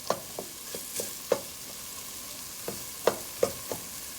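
Chickpeas cook in a pan, a soft steady sizzle under a scattering of light knocks and taps as a spoon scrapes and stirs, close and fairly quiet.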